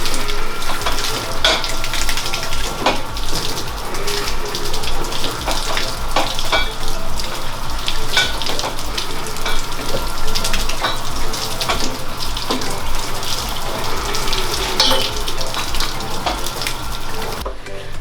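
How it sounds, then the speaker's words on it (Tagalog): Water running steadily while a carabao buffalo is bathed, a loud continuous splashing rush with scattered sharper splashes and no voices over it. "Una, atong paliguan ang atong buffalo."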